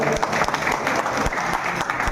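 An audience at a Kudalasangama Peetha event claps loudly and steadily in a dense, continuous burst of applause.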